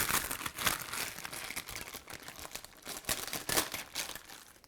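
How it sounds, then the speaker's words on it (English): A tight UMAi dry-aging bag peeled off a 6.5-pound brisket gives close, busy plastic crinkling and crackling in uneven bursts throughout. "Let's go ahead and get the bag off and I'll get it trimmed up."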